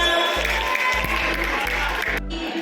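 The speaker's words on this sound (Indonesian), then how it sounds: "kita berikan tepuk untuk kita semua" Teachers at an Indonesian school training session on positive culture break into rhythmic group clapping, a loud patterned burst that repeats several times in quick beats with a voice speaking underneath, before the clapping stops abruptly near the end.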